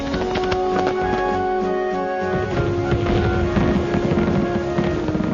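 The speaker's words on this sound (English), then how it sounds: "Fireworks in America have been synonymous with 4th of July celebrations from the time Boston patriot John Adams" Fireworks burst in a dense, continuous rumble of crackles and booms, loud and somewhat distant, with a steady tone running through the barrage.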